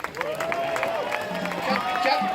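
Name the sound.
crowd applause for Auntie Shirley and Uncle Dave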